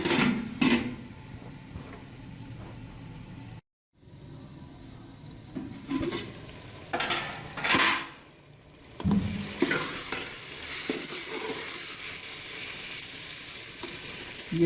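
Chicken keema fries in a pan for a plain Pakistani recipe, a moderate sizzle with intermittent stirring scrapes, a brief cut to silence early on, then a steadier, louder frying hiss toward the end.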